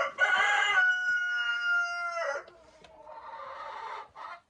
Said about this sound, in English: every time he crows